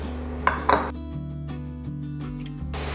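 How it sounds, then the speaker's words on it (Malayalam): Minced beef is stirred in a pan for empanada filling: a couple of sharp metallic clinks from a utensil against the pan, followed by a steady low hum. Brief, close and moderately loud, with no speech. "ഇതിനെ നന്നായി അങ്ങ് ഇളക്കി കൊടുക്കുക."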